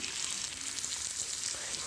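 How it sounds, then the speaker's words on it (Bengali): Steady hiss and crackle of potatoes and onions sizzling in hot oil, continuous and close, with no talking. "আলু পেঁয়াজ ভালো করে ভাজা হয়ে গেলে এর মধ্যে কুচিয়ে রাখা টমেটোগুলোকে দিয়ে দেবো"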